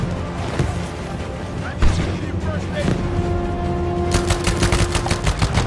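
Gunfire from the World War II shooter Battlefield V in a multiplayer match, a dense steady clatter of rapid shots and bursts with occasional louder impacts, close and continuous, a quick run of sharp shots near the end, players talking faintly underneath.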